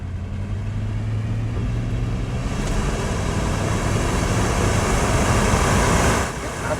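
A 1996 Ford F-150 XLT 4x4 pickup with a 5.0L V8 accelerates hard on a test drive, its engine droning loudly and rising through the gears, with a brief dip near the end as it shifts.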